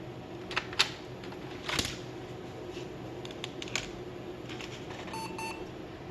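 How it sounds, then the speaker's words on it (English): Compaq LTE laptop restarting after a Windows 3.11 install, giving a short pair of electronic beeps near the end, preceded by scattered key clicks and mechanical clatter from the machine at close range. "We'll restart the computer."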